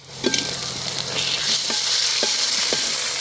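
Ginger-garlic paste hits sautéed onions in a pan for a country rooster curry, sizzling loudly and steadily, with a few sharp stirring clinks and scrapes over the constant frying hiss.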